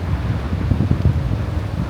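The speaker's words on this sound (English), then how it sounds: "I mean, you can see the wind, very windy." Strong wind buffets the microphone during a motorcycle ride over a mountain pass, producing a constant low roaring rumble with gusty fluctuations and no speech.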